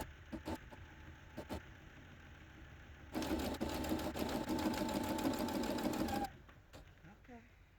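A Brother CS7000 sewing machine stitching patchwork pieces runs in a steady mechanical whir for about three seconds, fairly close, with some handling clicks before and after.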